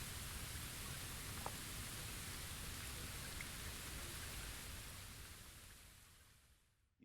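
Steady rain falls in the video game Bleach Rebirth of Souls, a dense, even hiss that fades out toward the end, with no voices.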